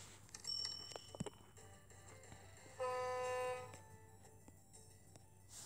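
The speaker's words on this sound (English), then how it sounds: "This train's just going along nicely." Train running in the OpenTTD video game, a short mechanical rumble with a clear, steady horn-like tone held for about a second in the middle, moderately loud over a quiet background.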